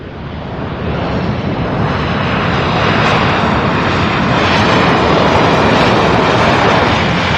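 A Southwest Airlines jet airliner landing at Louisville airport roars loudly and steadily, its engine noise swelling and holding as it passes close by.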